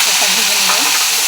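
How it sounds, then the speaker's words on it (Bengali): Green peas frying in hot oil for a winter-vegetable meat pulao, a loud, dense, unbroken sizzle heard up close. "মটরটা ভেজে নেব।"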